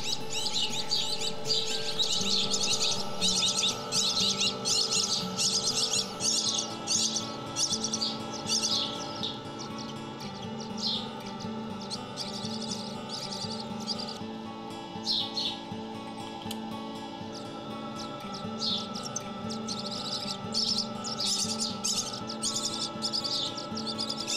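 Dense, high-pitched chirping from several small birds, rapid overlapping peeps continuing throughout at close range.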